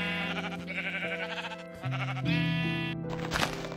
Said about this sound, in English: You're a sheep.